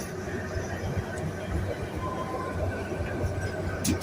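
Kalka–Shimla toy train running on its narrow-gauge Himalayan line, a continuous low rumble and rattle of wheels and carriages heard from inside, with muffled voices underneath.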